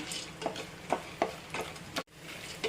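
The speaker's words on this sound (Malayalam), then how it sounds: "ഇനി നമ്മുടെ പൊട്ടുകടല ഇട്ട് കൊടുക്കാം അതും ചെറുതായിട്ടൊന്ന് നെയ്യിൽ കിടന്ന് ഒന്ന് ചൂടായി വന്നാൽ മതി" Roasted chickpeas (pottukadala) stirred in hot ghee in a pan give a soft, close sizzle with a spoon scraping and clicking roughly every half second, with no talking.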